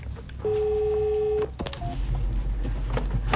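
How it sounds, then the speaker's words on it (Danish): A telephone rings nearby in a single steady electronic tone that lasts about a second, followed by clicks and handling noise as it is answered. "Det ringer."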